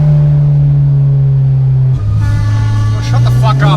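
Acura RSX engine droning loudly and steadily, then dropping and rising again in pitch through downshifts, with higher harmonics climbing as the revs pick up near the end.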